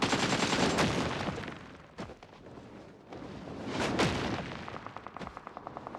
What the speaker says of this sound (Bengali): আবির ভাই ফায়ার করো তুমি কোথায় ফায়ার করো